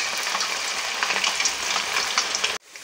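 Cut potato pieces frying in hot oil, a steady loud sizzle with bubbling crackle throughout that cuts off abruptly near the end.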